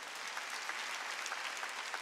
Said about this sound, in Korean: 박수 쳐주라고